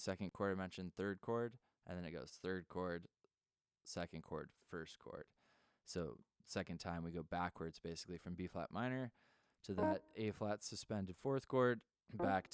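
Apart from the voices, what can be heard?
No distinct noise like a dog, phone or traffic.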